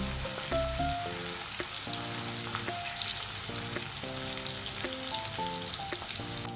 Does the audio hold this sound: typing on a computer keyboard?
no